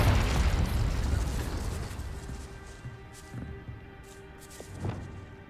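A Confringo blasting curse explodes in Hogwarts Legacy: a loud, deep boom up front that rolls off into a fading rumble, followed by faint scattered pops and debris.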